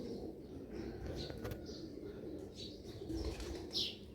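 Sialkoti motiya pigeons, a female among them, coo softly and steadily close by, with a few chirps and brief wing flaps over a low background rumble.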